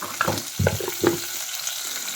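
Onions and drumsticks frying in oil in a pan with scraping stirs, a few clattering strokes of a spoon over a soft steady sizzle, close and without talk.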